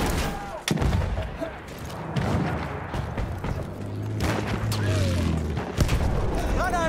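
Gunfire in Battlefield comes as sharp shots and bursts scattered through the clip, some near and punchy, some distant, mixed with game mechanisms and someone talking throughout.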